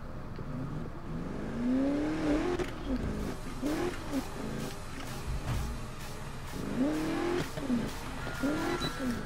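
A car engine revs and drives in the Need for Speed racing game, rising and falling in repeated surges of throttle across the stretch, moderately loud with no one talking.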